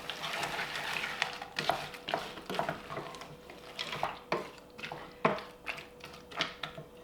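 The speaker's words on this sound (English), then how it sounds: "Give this a stir." A spoon stirs a pot of onions, garlic, canned tomatoes, spices and mixed vegetables in a rhythmic series of fairly soft scraping strokes, roughly one or two each second, over a faint simmer. No voices are heard.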